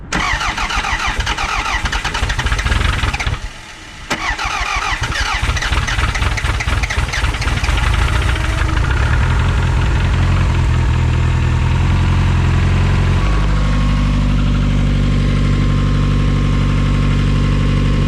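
A 1996 Toyota Camry engine, just fitted with a new fuel pump and running on a swapped battery, cranks, catches and then settles into a loud, steady idle close to the microphone.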